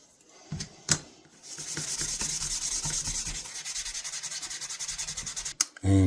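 Vintage knife blade rubbed with 2000 grit sandpaper, a steady rhythmic scratching of quick back-and-forth strokes, close and fairly loud, with a couple of sharp knocks at the start and end.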